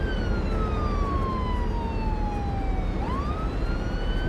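A police car siren wails continuously in a city-building video game, its tone sliding down slowly and then sweeping back up, steady and loud over a dense hum of city ambience.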